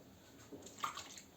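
Warm water pours into a bowl for Ukrainian palianytsia bread dough, a soft close trickle and splash swelling briefly in the middle of the pour, with no talking.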